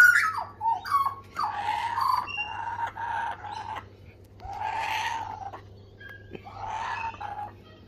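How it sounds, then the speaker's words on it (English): Kookaburras calling close by, a run of loud cackling, laughing bursts that rise and fall over several seconds above a low steady hum. "people are saying, please show us the kookaburras again."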